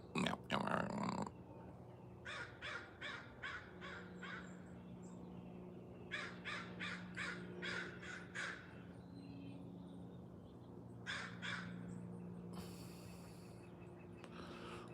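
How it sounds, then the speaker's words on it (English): Several crows caw outdoors in repeated bursts of harsh calls, grouped in runs of four to six, moderately near over a steady low background hum. "Crows."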